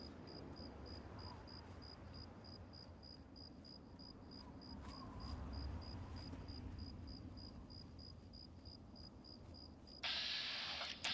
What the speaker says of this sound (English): They got crickets out here